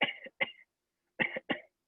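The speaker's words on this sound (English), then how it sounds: "So you get a wind cold, you get this cough." A lecturer demonstrates a dry cough, without phlegm, as a person would cough with a wind cold. There are four close coughing bursts in two pairs, split by a short silence.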